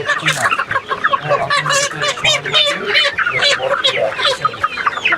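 Chickens sold as Sonali breed cluck and squawk steadily and fairly loud throughout, with people talking nearby over the flock.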